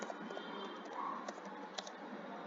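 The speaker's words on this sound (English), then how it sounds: "I'll type this code in" Soft, quick keystrokes on a computer keyboard as code is entered, a faint run of light clicks and taps with no voices.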